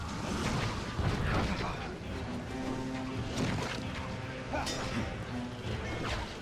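Artillery bombardment in the Battle of Helm's Deep from The Lord of the Rings: The Two Towers on PS2: a dense, continuous wall of booms, crashes and impacts with battle clamor and shouting voices layered throughout.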